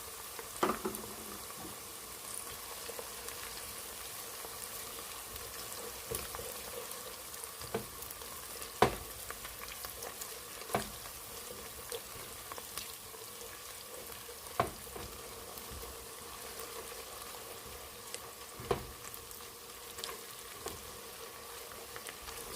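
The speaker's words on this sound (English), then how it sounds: "So we're going to just fry this for about 5 minutes" Onions frying with tomato paste for a spinach stew, a faint steady sizzle and bubble from the pan with occasional soft pops and taps, quiet and unbroken.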